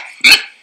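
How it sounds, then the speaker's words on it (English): A pig grunts once, a short loud, rough snort standing alone, followed by a faint onset at the end. "It's a pig."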